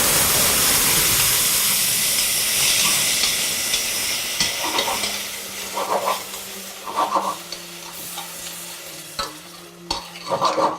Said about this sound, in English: So you just let the onions glisten and everything else just come together. And I'm going to add my tomatoes.